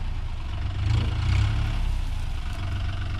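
Mahindra Oja 3140 40 hp tractor engine running steadily with a low, throbbing rumble that swells briefly as the driver shifts into fourth gear.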